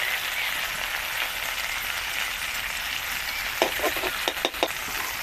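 Tomato and green chilli frying in a pan for a dry okra and potato curry give a steady, close sizzle, with a few light stirring taps toward the end and no talking.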